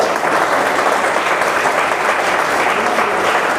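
Steady, dense applause from an audience welcoming someone called up on stage at a network marketing business training event, loud and continuous throughout with no talk over it.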